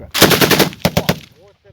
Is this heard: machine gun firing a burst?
yes